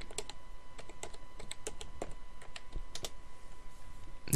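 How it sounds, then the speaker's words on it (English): Someone types on a computer keyboard while filling in PlayStation Network account details, producing a steady run of quick, fairly close clicks over a faint background hum. "Let's type this one again."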